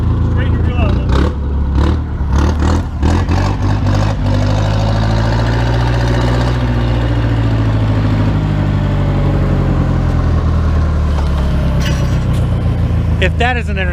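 A junk boat's outboard motor runs steadily and loudly throughout, a continuous engine drone with people talking over it.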